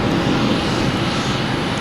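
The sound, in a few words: JetBlue airliner arriving at Boston Logan Airport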